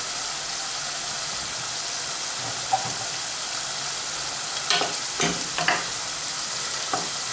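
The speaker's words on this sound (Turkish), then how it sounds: "Etimiz de kavurmaya başladı" Minced meat and onion fry in a pan with a steady broad sizzle, broken near the end by a few scraping stirs of a utensil against the pan.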